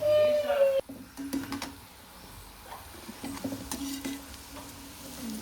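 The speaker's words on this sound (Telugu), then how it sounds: "ఇలా ఆయిల్లో వేసి డీప్ ఫ్రై చేసుకోవాలన్నమాట." Cut cabbage and carrot deep frying in oil for gobi fried rice, a soft, continuous bubbling sizzle with occasional stirring clinks, under a voice talking.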